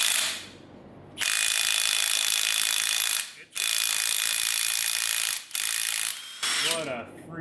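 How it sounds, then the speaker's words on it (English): A Milwaukee mid-torque impact wrench hammers at an engine's factory-torqued crank pulley bolt in rapid, loud bursts, three long runs separated by short pauses and a final quick burst. "Let's see if the mid-torque Milwaukee will do it."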